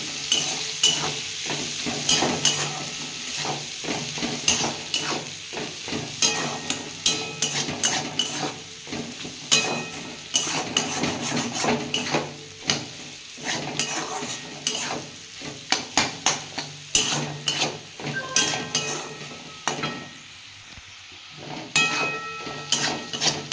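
Dried red chilli and cumin sauté in a pan for radish mung dal, a low steady sizzle under repeated spatula scrapes and metallic taps against the pan, close and continuous.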